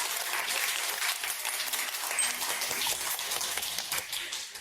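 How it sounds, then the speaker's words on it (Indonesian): An audience claps in sustained, dense applause to welcome a speaker to the podium at a formal gathering. It holds steady for several seconds, then cuts off abruptly. "mari kita sambut dengan tepuk tangan meriah Ibu Su untuk menyampaikan pidato."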